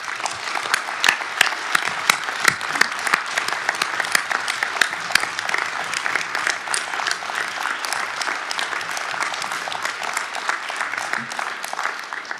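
Sustained audience applause fills a municipal council session in Bry-sur-Marne after a mayor's re-election, many hands clapping densely and steadily at a strong level for the whole stretch, with no voices on top.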